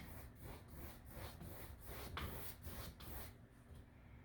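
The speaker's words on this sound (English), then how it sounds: "It's a nice scraping sound." A paintbrush scrapes and mixes paint on a palette while painting a cherry blossom tree, giving a faint, rhythmic rasping stroke repeated about eight times in quick succession, close up and quiet.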